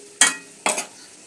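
Chopped onion, ginger and green chili are stirred in hot oil in a pan, giving two short, separate bursts of scraping sizzle with quiet between them.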